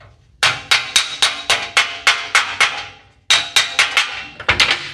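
A hammer rings against metal from a Rampside rear grille on an anvil. About eight sharp, evenly spaced blows come close and loud, then a brief pause, then a quicker flurry of strikes, with no talking.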